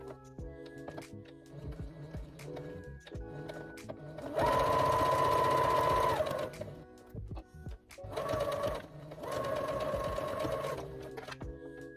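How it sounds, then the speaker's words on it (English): A sewing machine stitches the center back seam of a blazer's interfaced under collar, running in loud steady bursts with short pauses between them, alone with no talk. "Place right sides together and stitch a center back seam."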